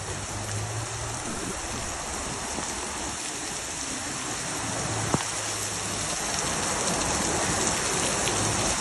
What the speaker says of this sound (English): this is not a hurricane, this is just rain